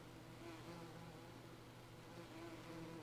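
A faint, steady buzzing of released bees flying away in a farm survival video game, a continuous insect drone with no other sounds.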